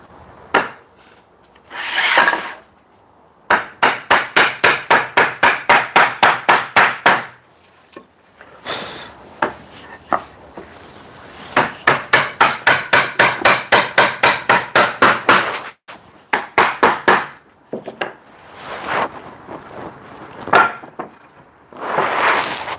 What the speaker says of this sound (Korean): 저희는 나무로 이렇게 망치를 만들어서 작업하고 있습니다